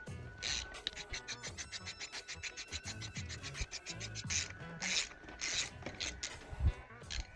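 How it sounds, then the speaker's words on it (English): A Motion Pro chain tool turned with a 14 mm socket pushes a pin out of a dirt bike chain link, giving a close run of rapid ratcheting clicks and metallic creaks. "14 millimeter socket and push that pin right out the chain link."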